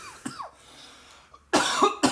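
A man coughs several times, a couple of light coughs early on, then two or three harsh, louder coughs close by at the end, with no talking.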